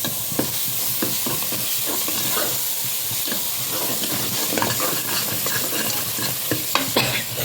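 Ground masala frying in a pan for avarai kulambu, a bean curry, crackles and sizzles loudly and without a break, while scraping stirring strokes recur throughout.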